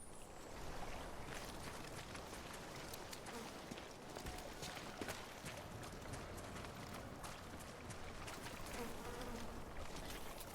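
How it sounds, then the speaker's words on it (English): Flies buzzing in Death Stranding, a steady faint insect drone among game ambience and footsteps, with someone talking over it. "Can hear like flies buzzing around"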